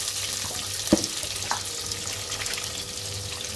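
Onion and garlic fry in oil in a pan with a continuous close sizzle, a sharp utensil clank early on and faint running-water sounds in the background.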